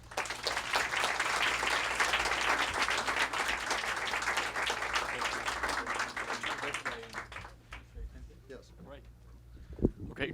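Audience applause for author Antonin Baudry at an evening book event, a dense sustained clapping from a crowd that fades out after about seven seconds, leaving room noise and a single sharp knock.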